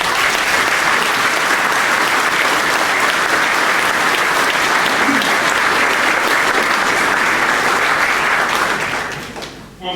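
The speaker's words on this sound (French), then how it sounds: "je vous demande de les applaudir." A dense, loud crowd applause fills a town hall during a New Year wishes ceremony in Garéoult, France, clapping steadily for about nine seconds before fading out at the end.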